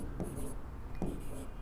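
Pen or marker strokes writing out a Class 10 trigonometry solution on an isosceles right triangle, soft scratchy bursts in short spaced groups, close and quiet, with no talk over them.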